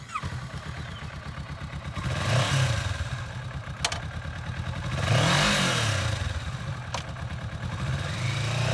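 A used 2019 Kawasaki Vulcan S twin-cylinder cruiser engine running near and steady, with a throbbing idle that lifts into a couple of brief revs.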